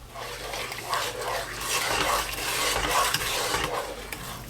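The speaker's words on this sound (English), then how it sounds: "we are getting to a boil here" Cowboy candy syrup for canning, made with non-iodized salt, heats toward a boil in a pot, giving a steady bubbling, sizzling hiss with faint stirring and pot sounds throughout.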